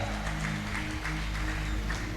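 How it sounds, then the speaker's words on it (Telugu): An audience at a healing prayer meeting claps hard and fast, a dense, continuous patter of applause over a low hum. "గట్టిగా చప్పట్లు కొట్టి గట్టిగా గట్టి కొట్టాలా."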